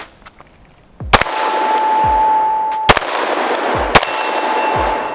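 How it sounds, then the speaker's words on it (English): A Glock 43x pistol fires three sharp, loud shots spaced about a second apart, each crack followed by a ringing metallic tail and a steady background hum between rounds. "These are the first couple of rounds that you see going through this gun"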